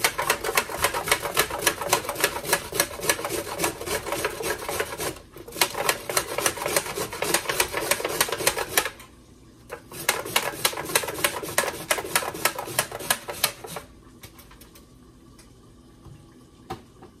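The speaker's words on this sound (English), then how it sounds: "I'm gonna go ahead and I'm gonna grate some over here" Coconut flesh being grated by hand on a metal grater while cooking Jamaican-style curry coconut chicken: rapid, steady rasping scrapes in long bursts, broken by two short pauses, then fading to a quiet tail.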